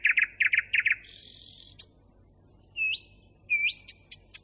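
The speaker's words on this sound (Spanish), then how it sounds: "El ruiseñor que está sonando ahí es el único pájaro que canta de noche" Nightingales sing at night in quick bursts of bright chirps and whistles, then a long buzzy trill and a few rising notes, clear and fairly close over a quiet background.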